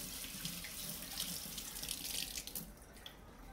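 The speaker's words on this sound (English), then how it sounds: "let me just wash my hand again" Water runs from a kitchen tap as hands are rinsed after mixing raw meat for a Nigerian dish, a steady close splashing hiss lasting throughout with no talking.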